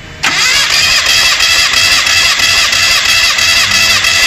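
A Proton Satria car engine with a hiccuping, uneven-fuel-pressure fault cranks and catches abruptly, then runs loud and close at a steady idle with a faint rhythmic pulse.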